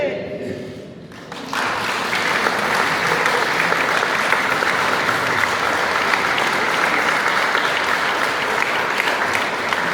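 Sustained applause from a ceremony audience at a princely coronation, building after a quieter opening moment and then holding steady and loud for the rest of the span.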